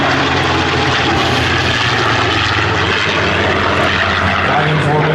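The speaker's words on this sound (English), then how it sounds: "Flying in formation today is World War II P-51 Mustang, flown by Mr. Lee Lauderback" A World War II P-51 Mustang and a US Air Force F-16 Fighting Falcon fly in formation at the 2012 Joint Base Lewis-McChord air show, a loud continuous roar of propeller and jet engine heard with an announcer speaking over it.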